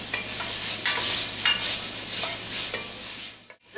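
Onions sizzle steadily in a hot pan while being stirred, with repeated scraping strokes of the spoon breaking through the constant close frying hiss before a sudden brief drop to near silence at the end.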